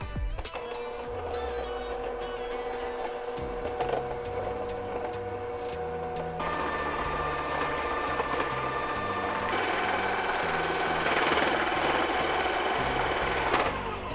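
Electric mixer beating a batter of sugar and flour, a steady motor whir running throughout with shifting pitch, fairly loud and near with no talk.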